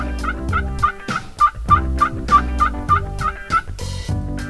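Wild Rio Grande turkeys in Kansas gobble loudly and close in a rapid rhythmic series of sharp calls, heard clearly without talking during an evening hunt.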